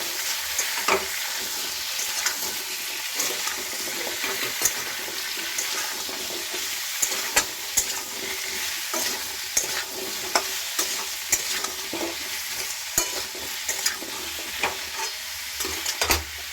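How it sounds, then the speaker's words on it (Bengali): Pumpkin-potato curry seasoned with turmeric and salt is stirred in a pan, giving a steady hiss with repeated scraping and clinking of the spoon against the pan, close and continuous without talk. "এবারে দিয়ে দিচ্ছি আমি হলুদের গুঁড়ো, দিয়ে দিচ্ছি আন্দাজ মতন লবণ, নাড়াচাড়া দিয়ে নিচ্ছি।"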